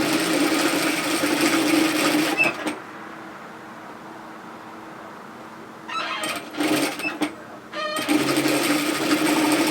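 Sewing machine running in two long bursts as it stitches the facing edge on a pair of loose-fitting bib overalls, loud and steady, with a quiet pause and a few short stop-start runs between.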